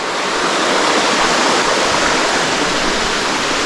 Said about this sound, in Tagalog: meron din dito bagsakan ng tubig